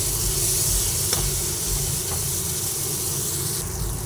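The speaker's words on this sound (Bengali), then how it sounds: "গ্যাসের ফ্লেমটা একটু বাড়িয়ে দিয়ে পেঁয়াজগুলোকে আমি ভেজে নেব।" Onions frying in oil in a wok over a raised gas flame, a dense steady sizzle and hiss with a couple of faint clicks, close and continuous with no voices.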